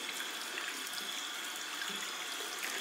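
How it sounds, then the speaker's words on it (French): Warm water running from a tap to rinse off a homemade two-ingredient face scrub, a steady faint broadband wash of flowing water with no talk. "Je te conseille de rincer avec de l'eau chaude."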